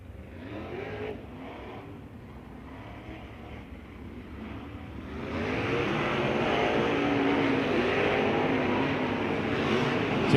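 A sprint car engine at the Lawrenceburg race track, during USAC Indiana Sprint Week, idles faintly in the distance and then swells into a steadier, louder rising drone as it is throttled up.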